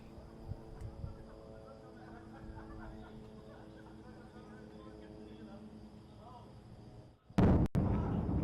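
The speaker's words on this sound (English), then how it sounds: "Big explosion." A loud, sudden explosion in Gaza booms near the end, followed by a second blast, after a long stretch of quieter background rumble with voices.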